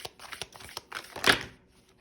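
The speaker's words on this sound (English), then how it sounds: "Let's go ahead and keep shuffling." A deck of tarot cards is shuffled close by in a series of quick papery riffles and slaps, building to a louder burst before trailing off, with no voices.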